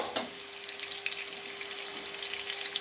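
Potatoes sizzle steadily in hot oil, with scattered small pops over a faint, low hum.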